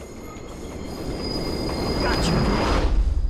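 A train from the Spider-Man 2 video game rumbles and rattles along the rails, growing steadily louder over a few seconds with squealing wheels and a high metallic whine.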